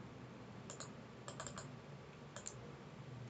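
Several quick computer keyboard key presses in small clusters, like a Ctrl+C copy shortcut, faint and close over a low room hum, with no talking.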